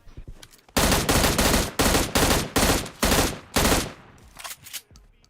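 Loud bursts of rapid gunfire in a video game, about six rattling volleys in quick succession, close and sharp, then a brief quieter tail.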